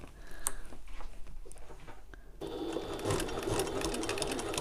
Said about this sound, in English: sewing straight across these strap tabs